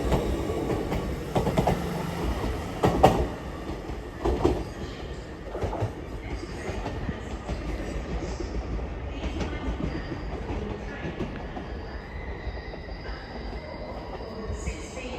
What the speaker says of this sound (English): And the cross country behind it, it's going to Aberdeen.